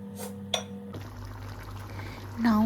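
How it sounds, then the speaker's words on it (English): Water pours into a pan of potato curry, a short steady splashing fill near the end after a quiet stretch with faint clinks. "Add half cup of water if you want a little gravy or keep it dry."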